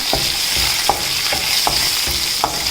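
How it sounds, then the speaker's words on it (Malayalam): Raisins and ginger sautéing in a pan for semiya upma sizzle loudly under a regular rhythm of about six spoon scrapes, with no talking. "മുന്തിരിങ്ങ ചേർത്ത് ജസ്റ്റ് ഒന്ന് വഴറ്റി കൊടുക്കാം"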